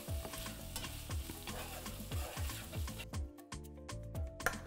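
Vegetables with paprika being stirred in a pan, steady sizzling and frying with the rhythmic scrape and knock of a utensil against the pan, close and continuous.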